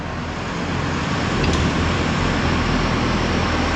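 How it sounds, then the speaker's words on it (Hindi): Mahindra Novo 755 CRDI tractor engine running hard as it is revved, a loud, steady broadband rumble with no pauses. "रेस दे ट्रैक्टर की"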